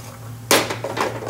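A spoon stirs lamb chop curry in a metal pot, giving a sharp clank followed by a few lighter scraping knocks, close and fairly quiet against a low background hum.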